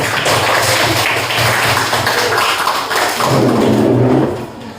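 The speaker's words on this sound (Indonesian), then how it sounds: "Aplaus untuk kelompok 5." A classroom audience applauds a student group after their presentation, a dense, steady wash of many hands clapping at once that carries on for several seconds, briefly thins, then swells again before fading out.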